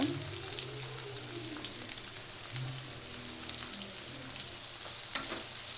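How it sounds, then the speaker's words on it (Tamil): Small onions and mutton sautéing in a pan for a South Indian mutton fry, a steady close sizzle with faint scraping and light stirring, no talking. "நல்லா சாட்டே பண்ணிட்டுருங்க. பாருங்கள், இந்த அளவுக்கு சின்ன வெங்காயம் வதங்கணும்"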